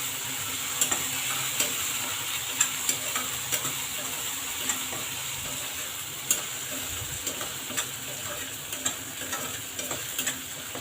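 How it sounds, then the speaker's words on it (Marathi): Besan sautéed with capsicum, green chili and garlic in a pan, a constant close sizzle broken by regular scraping taps of a spatula stirring through the mixture, with no talking. "त्याचा कच्चापणा जाईपर्यंत आपण परतून घेऊ छान"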